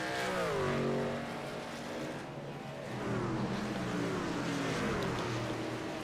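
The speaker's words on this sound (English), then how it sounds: "Get some good sound of these trucks going around the track here." AARN race trucks circle the track at The Rock, their engines roaring steadily at a distance. The pitch rises and falls as trucks accelerate and pass, with no talk over the sound.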